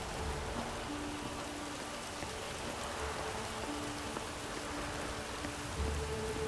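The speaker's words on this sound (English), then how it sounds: "It's raining outside." Steady rain in The Witcher 3 hisses in an even, moderately quiet patter on surfaces, with no voices and a few faint low tones underneath.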